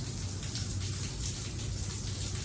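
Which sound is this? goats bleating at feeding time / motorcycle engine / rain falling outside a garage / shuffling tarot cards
rain falling outside a garage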